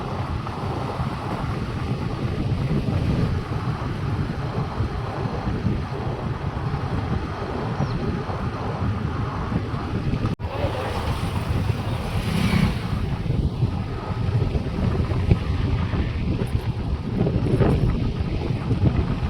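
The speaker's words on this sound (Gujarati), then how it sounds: "એકદમ ઠંડો ઠંડો પવન આવતો છે હવે" Cold wind gusts across the microphone on an evening road trip into Maharashtra, a constant loud buffeting rumble with occasional sharper bursts and no talking.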